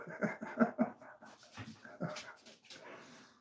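A dog whimpers and pants in a few short bursts close by, with soft yips and breathy huffs trailing off quietly.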